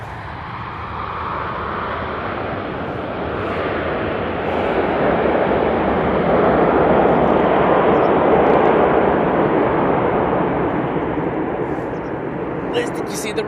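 An airplane lands at Manchester Airport, heard as a loud, broad, continuous engine roar that swells toward the middle and holds steady, with faint voices in the background.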